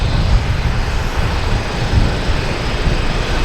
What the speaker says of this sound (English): But that plane is still coming in.